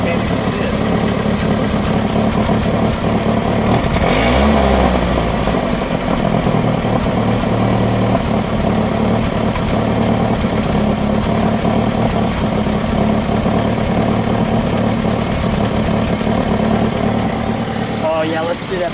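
A 1973 Chevrolet Vega Notchback engine idles steadily for the whole stretch, a constant low rumble close to the exhaust, with a brief change in tone near the start.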